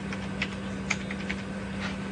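Keys tapped on a computer keyboard while logging a speed reading during fifth-wheel calibration, a few light clicks spaced irregularly and faint over a steady low hum.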